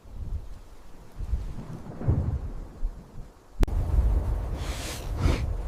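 Thunderstorm with low rolling thunder rumbling through steady rain, a sharp crack near the middle and then heavier thunder and gusty bursts toward the end.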